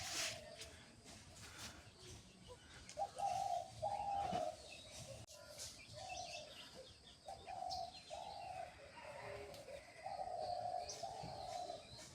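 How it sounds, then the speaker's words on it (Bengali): Soft, repeated cooing of a dove on a rural morning, several low phrases at a moderate distance over faint background ambience, with no talk. "সকাল সকাল ঘুঘু ডাকতেছে"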